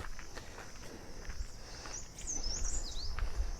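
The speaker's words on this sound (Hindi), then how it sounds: "ये देखिए पक्षियों की बहुत मधुर आवाज़ आ रही है।" Birds chirp and sing in a tea garden near Kausani, giving bright, fairly faint twittering over steady outdoor background noise with a few soft thumps, and no talk.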